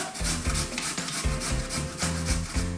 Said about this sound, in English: we're just going to give them a grate on the coarse side of the grater